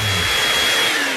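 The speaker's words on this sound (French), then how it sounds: "il suffit de le souffler avec une sèche-cheveux" A hair dryer blows with a steady, loud, close whooshing roar that holds through the whole short stretch, with no voices.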